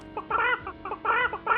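Chickens in a horror video game cluck in short, repeated bursts of clipped, nasal calls, close and fairly loud, with brief pauses between groups.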